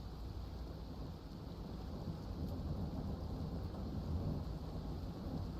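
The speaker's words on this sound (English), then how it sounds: "And of course there's this storm rolling in." Thunderstorm ambience from the video game The Last Caretaker: a steady, dense low rumble of rolling thunder and rain with wind, continuous and loud throughout, with no talking.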